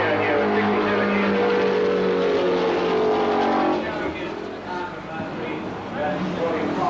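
A Brabham race car, driven by Fangio, roars past a grandstand with a loud, sustained engine note that fades and drops away as it passes, and a commentator talks over it.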